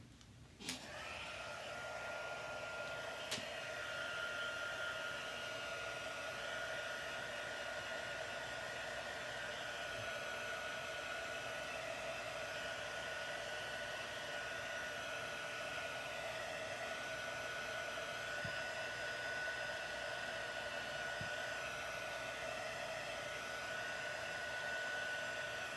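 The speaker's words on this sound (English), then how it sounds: "I'm just going to dry this with the heat tool" A heat tool blows steadily for about 25 seconds, drying ink on a handmade card. The constant whirring hiss stays close and loud from start to finish, with no voices over it.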